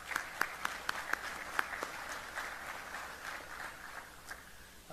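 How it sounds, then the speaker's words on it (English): Audience applause at a Hawaii address by the US Indo-Pacific commander, heard as a moderate, steady wash of clapping with a few sharper individual claps near the start, fading slightly toward the end. "A round of applause for you,"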